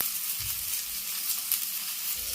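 Fenugreek seeds, urad dal and chana dal fry in hot oil, giving a steady, soft crackling sizzle that carries on evenly throughout with no voices.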